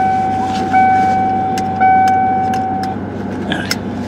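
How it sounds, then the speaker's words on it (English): Inside a car, a steady low interior rumble with faint light jingling and a few high tonal chimes, no talking. "I'm in the car."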